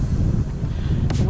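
Strong wind on a beach at a kite festival in Morecambe, a steady low roar buffeting the microphone throughout, with a brief gust swell near the end.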